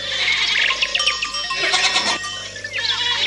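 Goats bleat repeatedly in a fresh goat cheese advert, several wavering loud calls overlapping with a cowbell-like clang, all close and busy.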